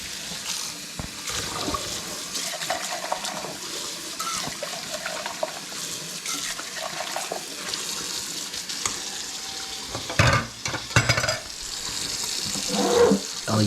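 Water sprays steadily from a kitchen sink sprayer over red kidney beans and other mixed beans being rinsed, a continuous hiss with brief louder splashes near the end.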